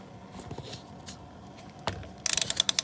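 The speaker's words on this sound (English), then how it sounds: "Get that socket seated on that nicely." A socket wrench ratchets on the oil filter of a Toyota RAV4 Hybrid (2019–2024) in a cramped underbody space, with soft fumbling early on, then a closely spaced run of sharp, loud clicks toward the end.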